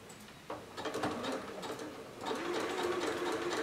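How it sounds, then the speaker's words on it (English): A sewing machine running a wide zigzag stitch over a wired fabric face-mask edge, a steady close mechanical whirr in two runs, with no talking. "all I'm going to do is to zigzag over that"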